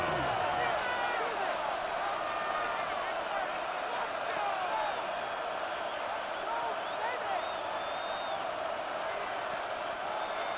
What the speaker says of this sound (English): The crowd at Arrowhead roaring.